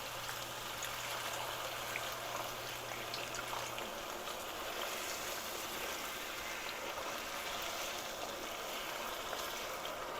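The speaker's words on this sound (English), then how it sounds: "And I'm going to pour that in." Chicken stock pours into a pot in a steady, close, continuous liquid stream, with no talking.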